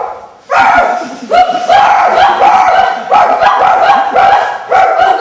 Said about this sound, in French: j'ai là un gros chien de bouvier